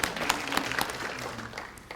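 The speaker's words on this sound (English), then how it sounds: "let's clap for our athletes" An audience at a college event claps for athletes, a modest, fairly quiet round of applause with scattered distinct hand claps, somewhat distant.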